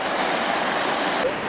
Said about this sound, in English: Here's a little creek.